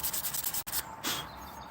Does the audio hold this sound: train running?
no